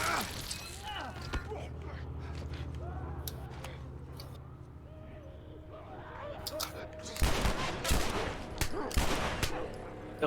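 Gunshots in a video game set in an apocalyptic city, scattered sharp shots under low background noise and a voice, then a louder cluster of several bangs near the end.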